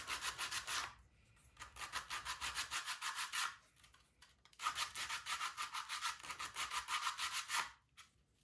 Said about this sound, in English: It just requires rubbing it the way you would with a file.